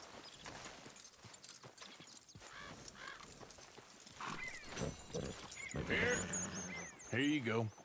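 Rhythmic hoofbeats clop along under Red Dead Redemption 2 game ambience and someone talking, followed by a horse whinny near the end.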